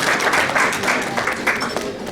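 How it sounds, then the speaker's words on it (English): Brief, dense applause from a dinner crowd at a charity fundraising event, moderately loud and continuous over two seconds. "please have a huge round of applause again"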